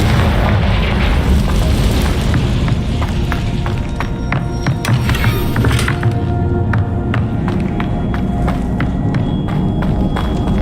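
A Confringo fire spell blasts in Hogwarts Legacy, producing loud, deep booming explosions with rumbling thuds and sharp pops throughout, with no talk.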